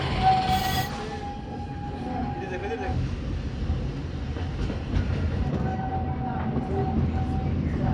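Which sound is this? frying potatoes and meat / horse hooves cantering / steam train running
steam train running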